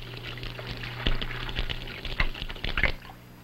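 Water splashes against a screen set over it during a 1962 fluids-in-motion demonstration: faint, irregular spatters and patters over a low steady hum.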